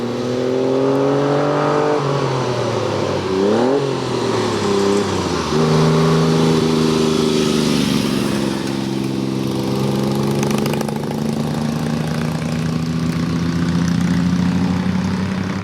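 A loud, steady engine drone from a classic Triumph motorcycle with throaty exhaust, rich low harmonics, revving up and down in pitch a few times, throaty and close, no voices.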